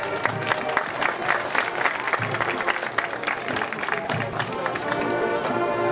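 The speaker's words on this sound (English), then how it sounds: "give a round of applause for the homecoming representatives from the class of 2029" A stadium crowd at a Springfield vs Station Camp football homecoming applauds the class of 2029 homecoming representatives, a dense, steady patter of clapping spread across the stands for several seconds.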